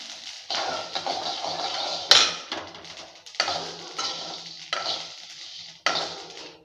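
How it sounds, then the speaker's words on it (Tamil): Sesame seeds roasting in a dry pan for idli podi, crackling and popping in repeated bursts with spoon scrapes against the pan between them. "எள்ளு வந்து பொரியிற சவுண்டு நல்லா கேட்குது."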